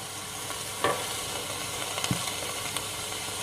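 Carrot, celery and herbs sweating in a soup pot for homemade soup, a steady close sizzle with stirring scrapes and a few spoon knocks against the pot, no talking.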